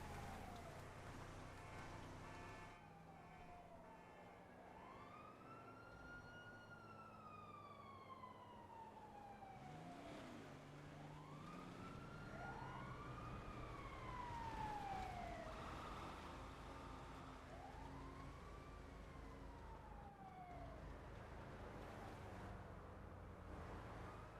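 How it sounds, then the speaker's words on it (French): Several police sirens in a video game wail and sweep up and down, overlapping at a moderate distance over a low rumbling background, with no talking. "Ah, j'entends des sirènes."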